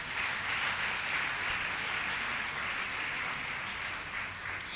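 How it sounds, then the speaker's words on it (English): Steady, sustained applause from a lecture audience fills the hall at moderate, even loudness, a dense wash of many hands clapping at a distance with no voices over it. "Please, a round of applause as he walks on."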